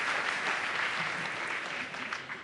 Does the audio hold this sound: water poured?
no